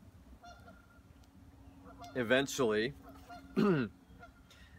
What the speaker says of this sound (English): We have a goose friend nearby.